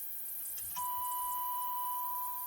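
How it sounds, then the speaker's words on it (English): A steady, thin electronic buzzer tone from a 1994 Chevrolet S-10 pickup starts abruptly and holds continuously, alone against a quiet background. "there's stupid buzzer in this thing"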